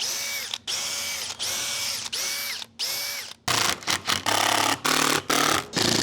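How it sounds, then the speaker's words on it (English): A power drill bores pilot holes in a wooden camper van cabinet, a series of whining bursts with spin-up and wind-down, then quicker, choppier pulses, loud and close with no talking. "We always want to pre-drill those holes, so we're going to use a pilot hole here."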